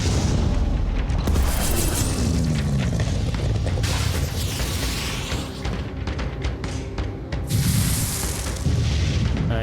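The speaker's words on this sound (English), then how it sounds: "I'm glad that first cannon shot hit." Cannon fire in the video game Terror from the Void, heavy booming shots and blasts layered over a busy mix of game effects and impacts.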